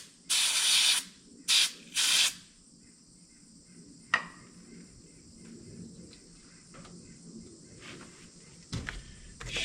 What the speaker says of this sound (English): I bought some electrical cleaner for this glow plug